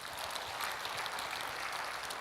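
A church congregation claps for the choir in steady, dense applause, soft and somewhat distant, continuing evenly throughout.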